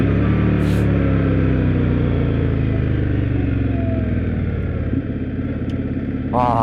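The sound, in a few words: Indian Scout Bobber motorcycle exhaust sound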